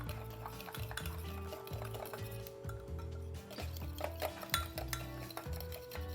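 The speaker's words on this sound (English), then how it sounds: "I'm just gonna kind of stir all that together in this cup" A spoon stirring ingredients together in a cup for halal cart chicken, with steady clinking and scraping strokes against the sides, close and moderately loud.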